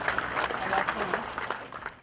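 A ceremony audience gives warm applause for newly decorated officers, a soft, somewhat distant wash of clapping with crowd murmur that fades toward the end.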